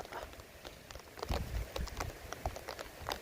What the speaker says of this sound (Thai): ฝนตกบ่ทั่วฟ้า